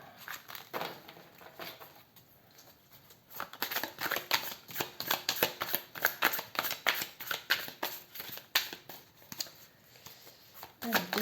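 Tarot cards are shuffled and drawn close up, a rapid run of rhythmic papery riffles and flicks that grows busier partway through, with no talk over it.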